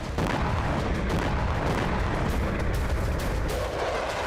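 Heavy bomb explosions from a Russian attack in Vovchansk, Kharkiv region, Ukraine, heard as a loud, continuous roaring rumble with dense low-end booms that never fall silent.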